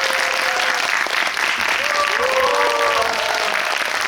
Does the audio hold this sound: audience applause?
yes